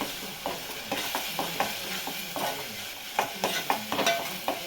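Ginger-garlic paste stirred into a sizzling Telangana egg curry mixture in a pan, a spoon scraping in uneven strokes over a constant close fry, with no talking.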